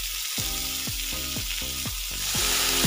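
Pork sizzling with onions in a hot pan at a Filipino street food stall, a loud steady fry with repeated rhythmic scraping strokes of stirring, swelling louder toward the end.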